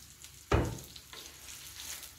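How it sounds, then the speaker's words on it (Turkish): Cheese hits a pan of hot fat in a home kitchen with one sudden loud sizzle. The sizzle fades to a softer, steady frying hiss nearby. "Peynir kızartacağım kendime."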